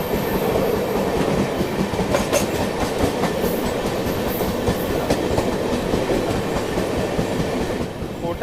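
A Sampark Kranti Express runs on Indian rails between Agra and Bharatpur, with a steady loud rumble and rhythmic clickety-clack of wheels over the joints heard from inside the train without a break.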